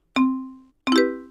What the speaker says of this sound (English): There's this bell.